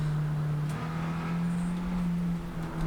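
Car engine holding a steady droning note on the throttle through a long oversteer drift round a corner in third gear, continuous and close, with a slight dip in pitch and level near the end and no talk.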